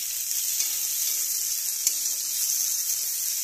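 Green chilies and vegetables fry in a pan for prawn chorchori, a continuous close hiss of hot oil with a faint tap of stirring partway through, and no voices.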